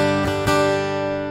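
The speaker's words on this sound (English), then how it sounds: "this is the sound of the piezo." Acoustic guitar heard through its piezo pickup into a Fractal Axe FX3, a brief ringing strummed chord with a couple of quick pick attacks, bright and close, sustaining alone.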